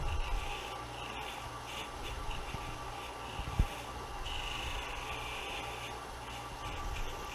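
A dull parting tool trims a wooden piece spinning on a lathe, giving a continuous rough scraping rasp with a faint steady hum of the machine underneath and one sharp knock partway through.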